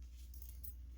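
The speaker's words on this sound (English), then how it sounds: "there's a bunch of just odd little vintage keys" A bunch of small vintage metal keys jangles briefly, a faint, close, light metallic jingle with two quick clusters over a low background hum.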